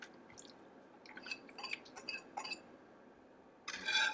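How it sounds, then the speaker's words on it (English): A slurry mixture is poured into a pan for Korean radish kimchi, giving soft wet drips and splashes in irregular bursts, ending with a louder pour near the close. "Now we're going to add our slurry mixture."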